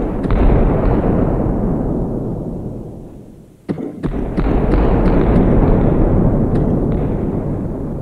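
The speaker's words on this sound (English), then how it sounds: "Oh, these are the sticky bombs." Sticky bombs detonate on a planet in the video game Solar Smash, producing a loud, continuous rumbling roar of explosions that briefly fades, then snaps back with several sharp pops and bursts before settling into a sustained heavy rumble.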